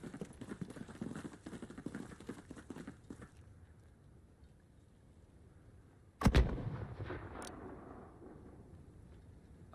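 Mortar fire in the video game Modern Warfare (2019): a single loud, sharp blast with a rumbling decay cuts through quieter, fainter battlefield noise.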